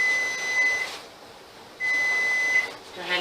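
A kitchen timer beeps in two steady high-pitched runs, each lasting about a second, with a short gap between them, in a kitchen during tomato canning. The beeps come through clearly over a quiet background.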